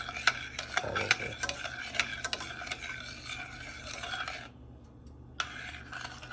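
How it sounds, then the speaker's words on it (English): A spoon stirs rice through boiling milk for cinnamon toast kheer, giving soft scraping rubs against the pot with a low simmering bubble beneath, pausing briefly near the end before resuming. "Just give it gentle stirs throughout"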